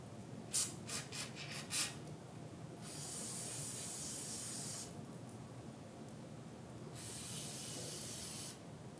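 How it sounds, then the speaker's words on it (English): Carb cleaner spray hisses through the jets of a Honda 4 Trax 70 carburetor, faint and close, in two sustained bursts after a few short clicks and puffs. "you can take the carb cleaner and hold your finger over the end and it'll make it come out of these little jets"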